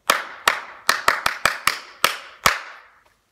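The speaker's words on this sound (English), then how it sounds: "Make sure it matches what I'm clapping." A teacher claps out a rhythm dictation for a third and fourth grade class: nine crisp, close hand claps in an uneven pattern, each ringing briefly in a quiet room, with no talking.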